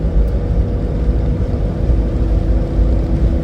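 An old Jeep accelerating on the interstate, its engine a steady loud low drone with road and wind noise under it and no talk.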